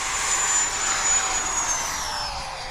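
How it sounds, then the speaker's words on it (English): A 90mm EDF F22 RC jet at full takeoff power, with a loud, steady ducted-fan roar and a high whine that slowly shifts in pitch. It stays close and constant, then fades slightly at the end. "Applying full power until we break the wheels"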